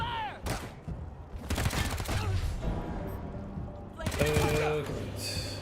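Gunfire in the Wasteland 3 combat game: several bursts of rapid shots crack out in clusters between quieter gaps, loud and near, mixed with game sound effects and occasional voices.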